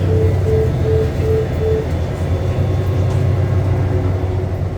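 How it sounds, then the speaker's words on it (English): An Exo commuter train locomotive runs on the Dorval to Lucien-L'Allier line in Montreal, a steady loud low rumble and drone heard from inside near the doors, with a short intermittent tone pulsing during the first two seconds. "we're actually going to hear the locomotive and the natural sounds of the train"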